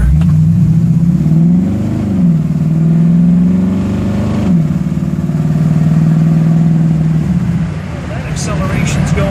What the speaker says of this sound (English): That acceleration's going better. That's about 50 miles an hour almost.